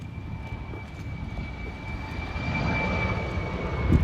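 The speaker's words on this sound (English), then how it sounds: "We've also got a plane behind us." A propeller airplane drones steadily overhead with a constant engine hum, growing slightly louder as it passes, and no one speaks.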